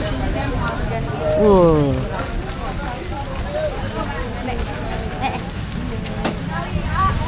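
Rain falling over a busy traditional clothing market in Tasikmalaya, a steady hiss of drops on surfaces beneath constant crowd chatter and nearby talking voices.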